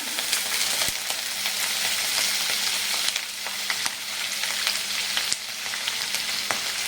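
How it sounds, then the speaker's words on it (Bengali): Chopped onion sizzles loudly and steadily in hot oil in a home kitchen pan, a dense crackling hiss with occasional sharp pops and stirring knocks, close up with no talk. "পেঁয়াজ কুচি দিলাম"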